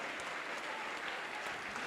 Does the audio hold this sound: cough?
no